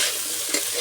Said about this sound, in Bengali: মাছের ডিমগুলো দিয়ে দেব।